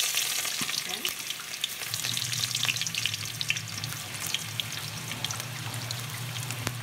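Garlic frying in hot oil, a dense crackling sizzle with lively popping spatters that holds steady throughout, close and fairly loud, no speech.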